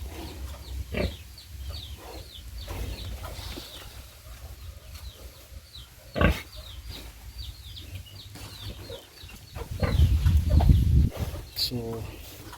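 Hens cluck and chatter intermittently over farmyard background noise, with a louder grunting burst near the end and a voice speaking briefly.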